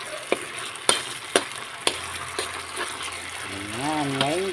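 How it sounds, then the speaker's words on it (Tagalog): Sardines sautéing in a pan, a steady frying hiss broken by several sharp clinks of a spoon stirring against the pan, with a voice speaking near the end. "sigisahin lang natin mabuti ang ating sardinas"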